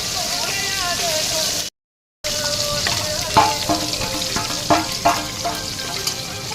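Fish fry sizzling in a pan on an outdoor gas stove while rain falls overhead, a steady near hiss with a brief dropout and a few sharp clinks of utensils.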